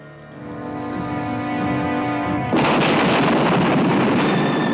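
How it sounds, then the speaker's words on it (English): A fiery gasoline explosion tears through a bunker in a movie scene, bursting in suddenly after a rising, tonal drone and roaring on loudly as a dense, sustained blast. "The explosion tears through the bunker"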